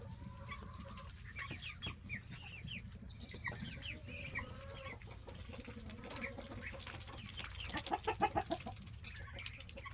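Four-week-old meat chickens cluck continuously in a barn setting, a dense chorus of soft repeated clucks and chirps with a louder burst of calls near the end, no talking.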